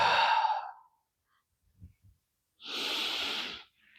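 Slow, deep breaths taken during a guided meditation: a long airy exhale, a quiet pause with faint soft sounds, then another full breathy exhale, close and alone without any talk.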